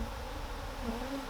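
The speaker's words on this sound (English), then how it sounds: "you can see there's a lot of bees up in the air already, just taking the lid off" Agitated honeybees swarming up from a freshly opened hive, making a dense continuous buzzing drone close by, steady and unbroken.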